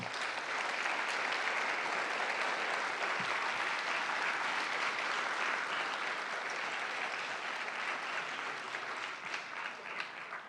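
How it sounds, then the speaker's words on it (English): Sustained applause from a large audience at a college convocation ceremony, steady and dense clapping filling the hall for about ten seconds and tapering slightly at the end. "give them a big round of applause and thank them for their leadership"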